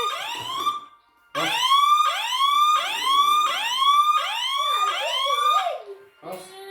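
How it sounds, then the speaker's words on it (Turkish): A loud wailing police siren rising and falling in repeated sweeps, close by, after a brief pause near the start. "Polis sireni."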